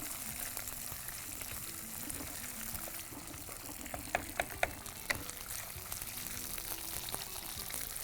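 Chicken and onions frying in a pan, a steady close sizzle and crackle with a few sharp pops and spatters partway through.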